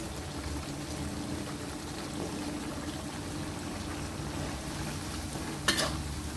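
Spicy Thai duck stir-frying with kaffir lime leaves in a pan, a low continuous sizzle and bubbling hiss with faint stirring scrapes and one brief sharp clink near the end.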